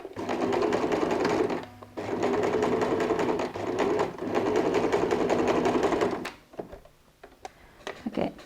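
A sewing machine runs in three long, steady bursts while stitching a seam on a quilted cross-body messenger bag, close and loud with brief pauses between runs, then a few soft handling clicks.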